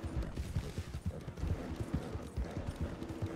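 Galloping horse hooves in Red Dead Online pound in a fast, steady rhythm, close and driving, with no talk over them.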